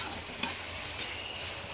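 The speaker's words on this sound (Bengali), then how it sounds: "এই যে কষাতে কষাতে তেল উঠে আসছে, একদম ভাজা ভাজা হয়ে গেছে।" Steady sizzle of spice paste frying in oil, with a few soft scraping stirs, close and continuous, no voices.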